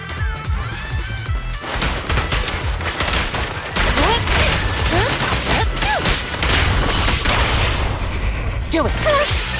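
Dense gunfire and bursts of automatic weapons fire in the action video game Zenless Zone Zero, loud and continuous with crashes and mechanical clanks, layered with game effects and brief voice lines.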